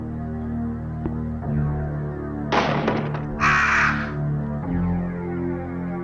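Crows cawing in the Resident Evil video game, two loud harsh bursts in the middle over a steady droning ambient game soundtrack, no voices.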